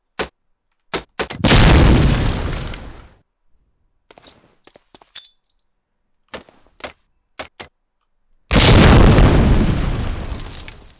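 Grenade blasts in a competitive first-person shooter match: a sharp loud boom near the start and another near the end, with scattered gunshots and small pops in between.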